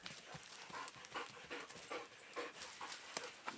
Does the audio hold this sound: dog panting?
yes